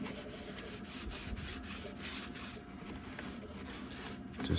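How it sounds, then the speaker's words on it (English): Cloth wiping over the ink station of a ZZ2F UV DTF printer, repeated soft rubbing strokes close by in a loose back-and-forth rhythm at low volume, with no talk. "I'll give this another once over wipe down in all these areas"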